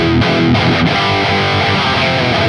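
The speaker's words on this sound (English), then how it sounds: "it's a great chugging sound" Loud, heavily distorted electric guitar chugging in tight palm-muted rhythm, dense and continuous with no voices.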